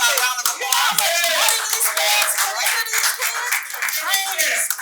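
A crowd breaks into loud, sustained applause with scattered cheers, continuous clapping filling the whole stretch.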